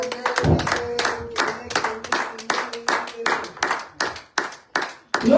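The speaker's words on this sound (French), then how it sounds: "Est-ce qu'on peut acclamer pour Jésus-Christ de Nazareth?" A church congregation in France claps for Jesus Christ, keeping a steady, rhythmic beat of close, crisp handclaps that thins out and fades over a few seconds.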